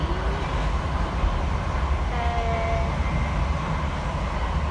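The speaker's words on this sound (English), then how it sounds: "I'm on a fast train." A fast passenger train produces a continuous low rumble and rail noise heard from on board, with faint tonal whines drifting in briefly and no talking.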